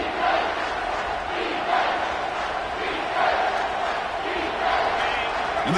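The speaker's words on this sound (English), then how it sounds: "And the crowd coming to life here" Football stadium crowd in a video game roars continuously in a dense, moderately loud wash with rising swells, while a commentator talks over it.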